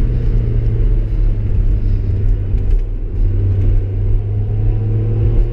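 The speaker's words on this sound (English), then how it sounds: "Perhaps the best use of a 944 is to take it out on the Nürburgring and let it stretch its legs." A Porsche 944 engine drones steadily as the car drives the Nürburgring, a loud, continuous low rumble with slight revving swells throughout.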